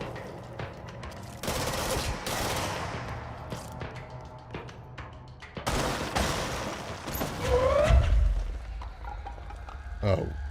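Gunfire from snipers in the video game Control. Bursts of shots and impacts come and go, with a heavier thud near the end, and voices talk over the action.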